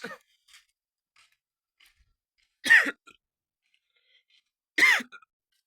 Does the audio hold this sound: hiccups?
yes